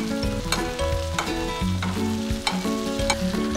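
Steak frying in plenty of butter in a hot pan, a loud close sizzle with scraping and clinking of utensils as the meat is flipped and basted.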